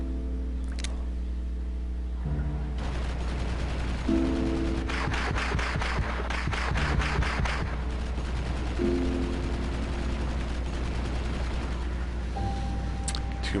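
Artillery and mortar fire rumbles through a multiplayer battle in the strategy game Wargame, with bursts of rapid shots and booms over a steady low drone of background noise.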